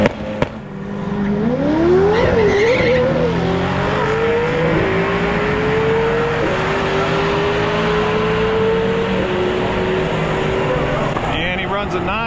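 A 1400 HP McLaren 720S launches on a drag strip for a quarter-mile test pass, its engine howling loud and close as it climbs steadily through gear changes, a sustained rising roar that fades slightly near the end.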